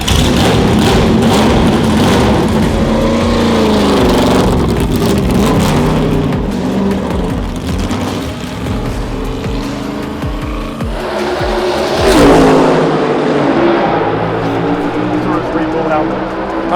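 A Trackhouse Camaro NASCAR race car roars loud and close, shifting and revving with tire squeal, and a person talks over the engine noise.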